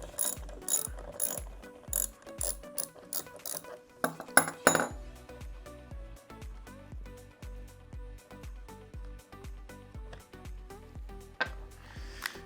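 A ratchet works a shoulder bolt out of a Dometic VacuFlush toilet pump, giving rapid bursts of sharp metallic clicks close up, with a louder cluster of clacks midway and no talking.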